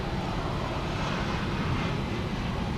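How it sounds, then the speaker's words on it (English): A Turkish airliner taxiing across a bridge to the east side of DFW Airport at night, a steady, broad engine roar heard from a distance without a break. "Turkish over the bridge to the east side for a takeoff."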